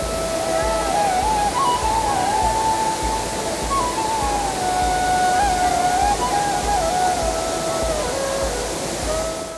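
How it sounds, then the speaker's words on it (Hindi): Tirathgarh waterfall in Bastar roars with a steady, dense wash of falling water, loud and unbroken throughout, with a thin wavering melodic tone drifting above it. "दूधिया पानी और गर्जना करते हुए स्वर की जलधारा वाला ये है बस्तर मुख्यालय से कुछ दूरी पर बना तीरथगढ़ का झरना।"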